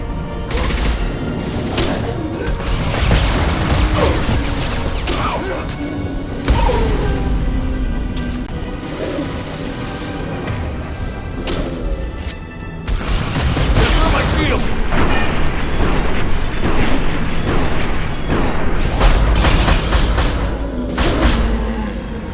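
Heavy gunfire and booming explosions in a Mass Effect firefight, with a high-impact shot among rapid bursts and blasts that pound steadily for over twenty seconds, loud and close, with voices speaking at points.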